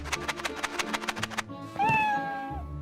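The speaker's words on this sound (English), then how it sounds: "Your cat goes meow." A cat gives one drawn-out, rising meow near the end, following a rapid run of rhythmic rattling beats, likely a shaken pack of Dreamies cat treats.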